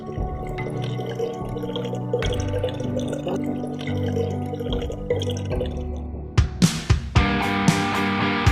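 Water from the Serra Catarinense mountains drips and trickles steadily over a low background hum, turning into louder splashing and pouring near the end.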